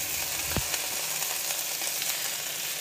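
Vegetables and rice noodles sizzle steadily in a hot pan during a vegetarian stir-fry. The frying hiss stays close and constant, with one brief clatter early on.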